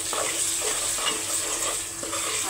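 Ginger, garlic and cumin paste sizzles in a pan while being stirred, a steady close hiss with soft scraping strokes repeating about every half second.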